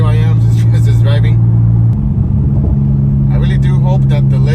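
A Nissan 350Z with an aftermarket front lip hums along on the road, its low steady engine drone continuous and close, shifting slightly in pitch midway, with someone talking over it at the start and end.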